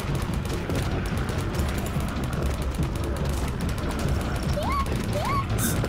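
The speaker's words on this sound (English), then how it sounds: "Heavy machine gun." Heavy machine gun fire in Codename CURE chatters as a fast continuous rattle of rapid shots, loud and sustained under dense combat noise, with short rising electronic chirps near the end.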